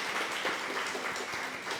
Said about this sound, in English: Another round of applause for that incredible song.